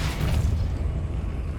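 A Depulso spell cast in Hogwarts Legacy gives a short, heavy low boom that rolls on for under two seconds, with a mechanical rumble behind it and no voices.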